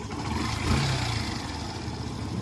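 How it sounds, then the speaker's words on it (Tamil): A Yamaha FZ version 2 motorcycle with about 50,000 km on it, brought in for an engine noise, runs close by with a steady mechanical hum and a brief rise in revs, no voices present. "இன்ஜினில் சவுண்டு வருது பார்த்துக்கோங்க."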